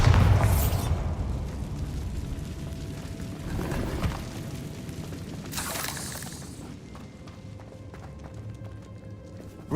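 A blasting spell explodes in Hogwarts Legacy, with booming bursts and shattering debris near the start, again around four seconds and again near six seconds, over a low rumbling game backdrop.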